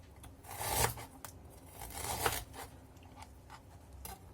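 A knife slices peeled ginger on a board in a home kitchen. Soft, rasping cutting strokes repeat in an uneven rhythm, two louder passes followed by lighter taps, close and quiet with no talking.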